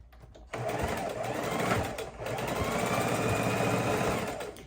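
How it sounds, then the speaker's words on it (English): A sewing machine runs steadily, stitching two pinwheel quilt blocks together, starting after a brief pause and holding a close, continuous mechanical whir to the end. "And we're going to sew these two together."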